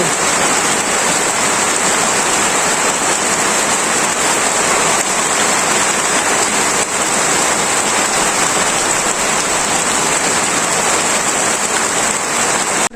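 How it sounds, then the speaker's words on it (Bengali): Steady, dense daytime rain hisses loudly and continuously in a Bangladeshi village, an even wash of falling water with no pauses or voices. "এই যে দিনও বেলায় বৃষ্টি হইতেছে জাগে জাগে বৃষ্টি হইতেছে"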